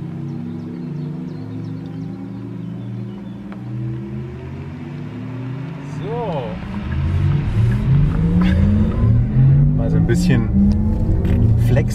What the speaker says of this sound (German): das war mal kurz von 70 auf 100 beschleunigt